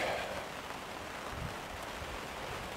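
Steady rain falls outside on a cool, roughly 9-degree day, a continuous soft hiss and patter that fills the whole stretch with no voices.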